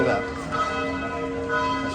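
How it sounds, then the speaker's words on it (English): A church bell rings in the old town of Dubrovnik, its sustained resonant tones hanging steadily over faint background murmur for the whole two seconds. "That's your shame bell."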